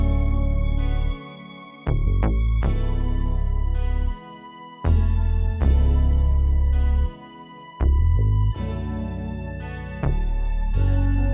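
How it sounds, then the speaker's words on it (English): Guitar in an 80s soul style inside a full production with deep bass and steady beat, playing bright chords and short licks in repeating phrases with brief drops in the low end, loud and without any voices. "A lot of 80s soul like to use guitars, so I use this guitar to sound like this."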